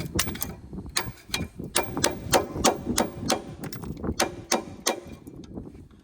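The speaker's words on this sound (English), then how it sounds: "This is my 3/8 hammer." Repeated sharp metallic hammer blows on seized front brake parts of a 2007 Honda CR-V, a steady run of about a dozen close, loud strikes in a garage.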